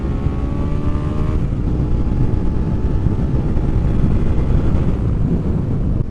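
A 2017 Suzuki SV650 motorcycle riding at around 40 mph, with a steady engine drone under heavy rushing wind that holds constant throughout. A faint rising whine comes through early on.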